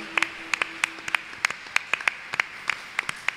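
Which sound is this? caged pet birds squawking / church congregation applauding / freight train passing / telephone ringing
church congregation applauding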